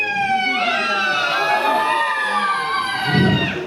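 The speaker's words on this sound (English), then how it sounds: "Notice the high-pitched screaming. Like the cacophony of everyone was screaming." A crowd screams in a high-pitched cacophony from a video played back in a room, a dense wailing wall of voices that rises and falls throughout, ending with a muffled thump.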